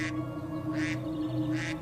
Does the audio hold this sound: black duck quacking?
yes